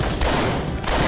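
Loud, continuous gunfire from a Bollywood action movie scene, a dense burst of rapid shots filling the whole moment.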